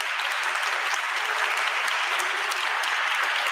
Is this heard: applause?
yes